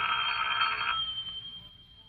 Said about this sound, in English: It was quite dark when the call came through.